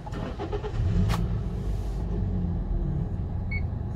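A 2015 Toyota Vios engine idles steadily up close, a continuous low rumble that holds at an even level throughout, with a brief higher click or hiss near the middle and no voices.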